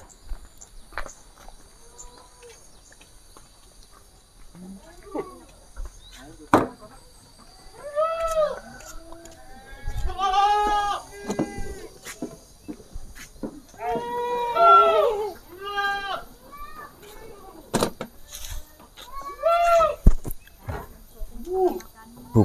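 Goats on a farm bleating in a series of wavering calls of varying pitch, several overlapping in the middle stretch, with insect chirping steady in the background.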